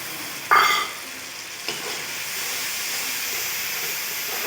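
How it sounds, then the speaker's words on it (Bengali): Ground spice paste hits hot oil with already reddened onions for a mutton red curry, giving a sudden loud sizzling burst that settles into a steady, close frying hiss. "আমি এবার এখানে যে মশলার পেস্ট বানিয়ে রেখেছিলাম দিয়ে দেব।"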